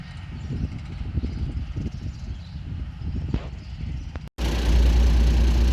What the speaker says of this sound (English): I'm in the tractor just firing up the mower.